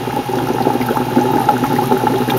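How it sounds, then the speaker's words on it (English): An air pump running at maximum flow drives air through nutrient solution in a deep-water-culture bubble bucket, giving a loud, close, continuous bubbling and boiling churn with no talk over it. "That is a lot of air bubbles pumping into that nutrient solution"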